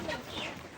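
Layer chickens cluck and squawk faintly on a farm as they are caught for delivery, a brief agitated flurry of calls with soft background noise.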